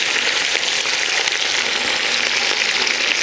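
Green chillies sizzle in hot oil with mustard seeds, urad dal and dried red chillies while tempering for buttermilk kali, giving a steady, loud, close hiss of frying throughout with no talking.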